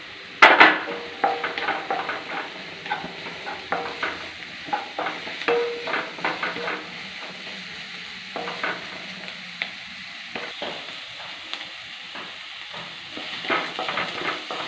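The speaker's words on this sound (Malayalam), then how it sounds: "വെളുത്തുള്ളി ഇഞ്ചി പച്ചമുളകും ശരിക്കും നന്നായിട്ട് വഴ വഴട്ടിയെടുക്കണം" Garlic, ginger and green chillies sauté in a pan with a steady sizzle. A spoon scrapes and taps against the metal in quick, repeated strokes, close and alone, with no voices.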